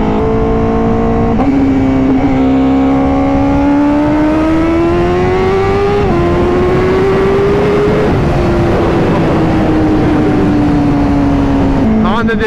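A Honda CBR1000RR-R SP superbike engine revving hard and accelerating through several gears, its loud rising whine stepping down at each shift, continuous and close with wind noise.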